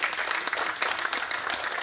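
An audience in a meeting hall applauds in a brief, dense burst of clapping, with voices mingling underneath.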